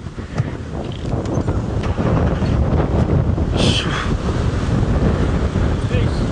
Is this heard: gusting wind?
yes